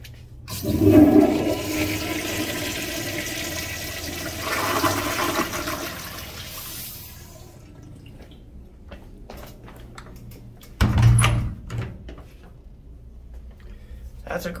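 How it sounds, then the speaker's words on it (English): An early-1960s American Standard toilet in a ruined building flushes with a loud rushing swirl that fades into a long gurgling refill, then a second surge of water near the end. "Flush properly."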